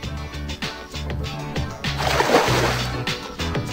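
A water gun attack in Persona 3 Portable lands as a splashy, sloshing burst midway through, layered over a steady, rhythmic game soundtrack.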